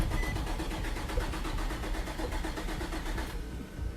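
A 2003 Infiniti G35 with its check engine light on and a suspected camshaft position sensor fault cranks hard without catching. The starter churns loudly and steadily in a fast rhythm for over three seconds, then eases off near the end.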